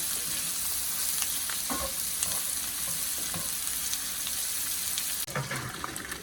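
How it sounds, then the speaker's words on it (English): Mushrooms and onions sautéing in a pan for beef stroganoff with ribeye steak make a steady, close sizzle with occasional stirring clicks, and a brief shift in the cooking noise near the end. "We're gonna get these in, get them sauteed."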